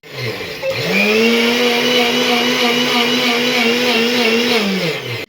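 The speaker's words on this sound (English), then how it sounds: "Ignore the grinder." An electric grinder powdering sugar spins up to a loud steady whine, runs evenly for several seconds close by, then winds down and stops.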